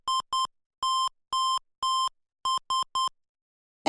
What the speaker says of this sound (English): and an emergency alarm.